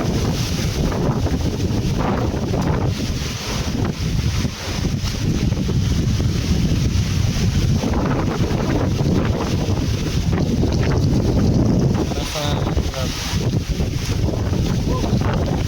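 Strong typhoon wind from Typhoon Uwan lashing Anda, Pangasinan, a loud, continuous roaring buffet against the microphone with gusty surges throughout and brief speech underneath.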